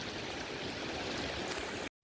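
Steady rushing flow of a river in the Hoh rainforest, a continuous broadband wash of water heard up close and fairly loud, cutting out abruptly near the end.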